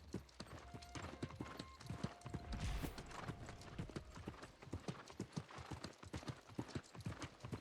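A horse mount gallops in the New World video game, with rapid, steady hoofbeats over a continuous bed of game music and ambience.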